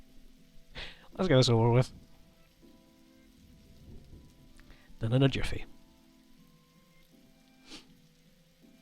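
Steady soft rain patter from The Darkside Detective video game runs as a quiet bed under two short bursts of talking.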